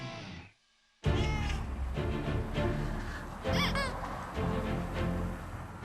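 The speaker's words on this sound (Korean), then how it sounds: "길냥이마저 홀리는 설 전문가. 태나게 최초로 고양이와 함께 등장하는" A stray cat meows repeatedly and insistently at close range, rising drawn-out cries breaking after a short silence, with background noise throughout.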